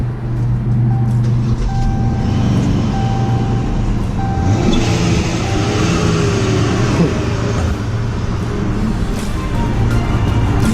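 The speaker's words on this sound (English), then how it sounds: "I know you guys want to hear. That supercharger." Supercharged 2016 Dodge Charger engine idling warm, a loud steady low rumble with a faint whine on top, continuous and close throughout.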